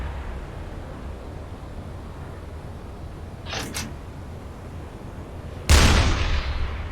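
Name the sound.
deck gun firing in U-Boat video game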